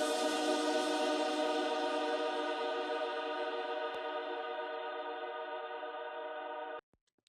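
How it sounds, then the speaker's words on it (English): A sustained Spectracomb synth pad plays as one bright, dense, steady chord, loud and alone, holding for almost seven seconds before cutting off abruptly. "It's a combination of this Spectracomb pad, which sounds like this."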